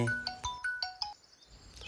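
A mobile phone rings for an incoming call, playing a short, bright melodic ringtone of separate rising and falling notes, fairly quiet in a still room.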